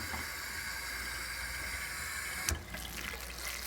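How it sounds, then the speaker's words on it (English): A hose spray nozzle hisses steadily and softly while watering houseplants, with a brief knock partway through, then the spray carries on. "I'm also going to use the spray nozzle."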